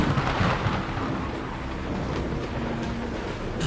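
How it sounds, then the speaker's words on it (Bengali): A close thunderclap booms at the start over heavy, steady rain, then gives way to a dense wash of downpour with low rumbling underneath. "আচমকা বুক কাঁপিয়ে দিয়ে একটা বাজ পড়ার শব্দ হলো, খুব কাছেই কোথাও"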